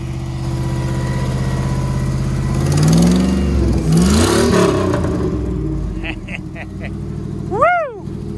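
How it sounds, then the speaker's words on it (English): A 4x4 truck engine revs in low rumbling surges, rising and falling over several seconds, while people shout and cheer excitedly close by throughout. "Rev her up!"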